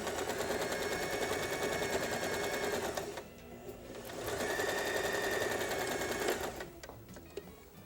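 A sewing machine stitches a seam on a child's double-sided apron, its steady rapid whirring and clatter running for a few seconds, pausing briefly, then resuming before stopping, with no talking.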